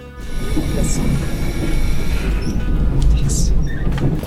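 Riding a train to Pyeongtaek Station in the Seoul area, with a steady, loud rumble and rolling wheel noise throughout, plus a few faint higher squeals and clicks over it, and no talking.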